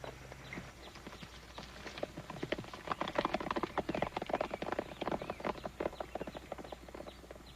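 Several horses ride off, hooves clip-clopping in a rapid, irregular patter that builds and stays fairly close before thinning slightly, with no voices over it.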